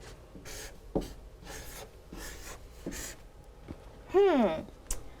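A word is written on a classroom board in a string of short, separate strokes, fairly close and moderately loud, with a brief squeaky sound near the end.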